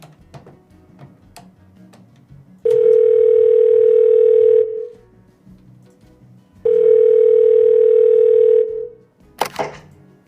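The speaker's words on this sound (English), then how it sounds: "Let me just dial her up." A telephone dial tone while calling, two steady long tones of about two seconds each separated by a pause, loud and close, preceded by faint clicks and followed by a brief rustle.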